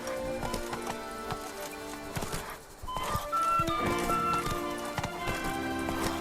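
Hooves of the horse Roach clip-clopping in The Witcher 3's Blood and Wine expansion, a steady close trot of rhythmic hoofbeats under game music, with a brief quieter gap partway through.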